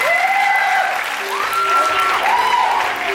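A crowd applauds at a Miss Grand Chachoengsao beauty pageant finalist announcement, steady clapping under loud sustained musical tones and sweeping synth notes.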